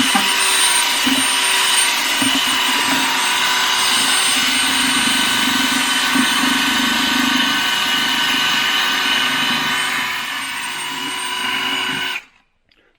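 Power drill spinning a mixing paddle inside a 5-gallon bucket, giving a steady loud motor whine with a churning rumble that runs continuously, eases slightly near the end, then cuts off abruptly.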